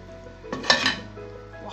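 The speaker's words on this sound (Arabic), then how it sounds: "هنا ان شاء الله غادي نرمي هذا اليقطين ديالي القرح ديالي" Pumpkin pieces dropped into a cooking pot, heard as a brief clatter and clink of pieces hitting metal at close range, followed by a low simmering background.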